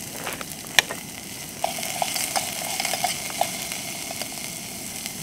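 Vegetables sizzle and fry steadily in a hot aluminium pot for a vegetable soup with broad beans, with a few sharp clinks of a utensil stirring near the start, a continuous close hiss throughout.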